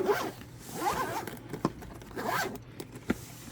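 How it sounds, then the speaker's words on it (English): A zipper is pulled shut in a few drawn-out rasping strokes, with sharp clicks between them, close up and alone. "let's go ahead and zip that up"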